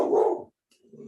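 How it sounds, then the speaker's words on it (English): A dog barks at another dog walking past on a street sidewalk. A single close, loud bark is followed by a brief pause and a softer growl or whine. "It's just a dog walking across the street on the sidewalk."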